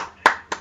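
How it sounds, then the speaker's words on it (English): A person clapping hands twice, close and sharp, two distinct claps about a quarter second apart over a quiet background. "I clap for that."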